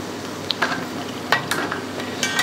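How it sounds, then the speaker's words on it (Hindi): Cashews frying in hot ghee in a pan give a steady close sizzle, with a few sharp stirring clinks and scrapes scattered on top. "अब सबसे पहले हम जो है ड्राई फ्रूट्स को फ्राई करेंगे।"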